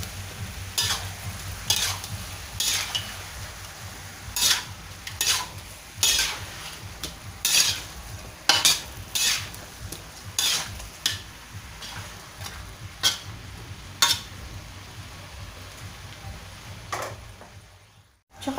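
Dried fish is stirred in a hot pan for chicken caldereta, with repeated sharp spoon scrapes and knocks over a steady sizzle, close by and fading out near the end.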